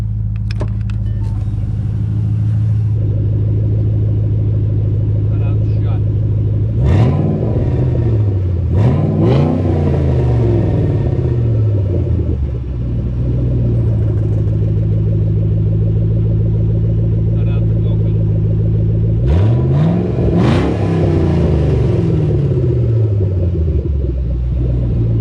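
A Ford Shelby GT500 with a VMP supercharger and open exhaust cutouts, recorded near the ground behind the car, idles with a deep steady rumble and is sharply revved three times, the blips loud and close.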